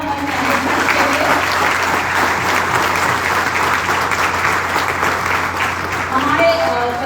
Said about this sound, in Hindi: तो जोरदार तालियां हमारे मैनेजमेंट के लिए।